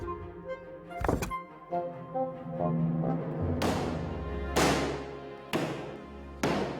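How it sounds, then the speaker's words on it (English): Unleavened dumpling dough slammed down on a kitchen bench in a Chinese kitchen, with several heavy, well-spaced thuds rising over a steady low hum and faint background sounds. "The dough is repeatedly banged against the bench to ensure its pliability"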